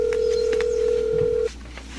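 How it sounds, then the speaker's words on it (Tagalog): A phone call being placed on a cellphone, with a steady dial-type tone held for about a second and a half before cutting off, followed by faint line noise. "Andrew, Susubukan kong kontakin ulit ang uncle ko, Myra, para maipaalam ko sa kanya na nandito"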